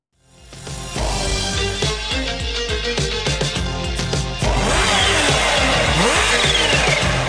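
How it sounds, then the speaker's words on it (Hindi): Heavy motorbikes at a Karachi seaview bike rally roar at high speed, loud and continuous with revving engines and a squealing, whining passage near the end, with no talk over them. "अपने मखसूस अंदाज में तेज रफ्तार बाइकें दौड़ाई"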